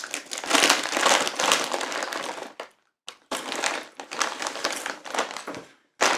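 A bag of Lay's Fiery Habanero potato chips crinkles and crumples loudly up close in two long bursts, separated by a brief silence, with a short crackle at the very end.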